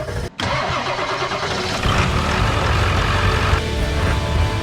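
A Ford 7.3 liter Powerstroke diesel engine cranks and fires up, then settles into a loud, steady, close-up idle that runs to the end.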